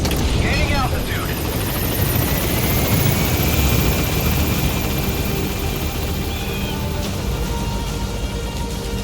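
A Metal Gear Solid V extraction helicopter thunders loudly close by, its rotor chop and engine whine steady throughout, with faint game chatter underneath.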